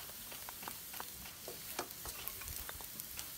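Chopped onion sautéing in a pan for mushroom adobo, a faint steady sizzle broken by light scraping and stirring clicks, heard close with no talking.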